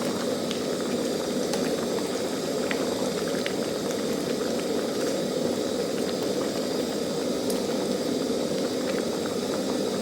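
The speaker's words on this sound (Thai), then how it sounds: "นี่แหละค่ะให้มันเดือดพุดๆ" A pot of Lao curry with mushrooms, bamboo shoots and coconut palm shoots boils hard, with a steady, dense bubbling that holds close and even throughout, no voices over it.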